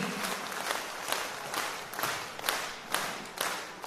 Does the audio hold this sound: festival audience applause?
yes